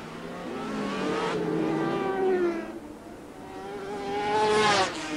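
Racing motorcycles, a Kawasaki among them, scream past in a 1988 British Superbike race, their loud high-pitched engines rising and falling in pitch as bikes sweep by, with a second surge building near the end.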